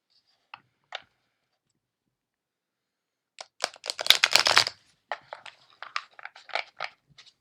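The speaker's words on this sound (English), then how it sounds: "so we're going to shuffle a little bit more here." A couple of soft taps, then a burst of riffling oracle card shuffling followed by lighter, intermittent card handling; close and fairly quiet, no voices.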